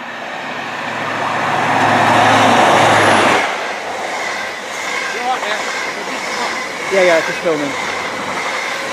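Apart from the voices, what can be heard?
Grand Central Adelante VTEC HST train passing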